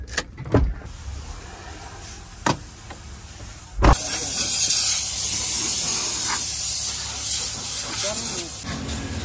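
At a car wash, pressurized water sprays onto a car with the windows shut, a steady loud hiss after a few sharp knocks, heard from inside with muffled talk.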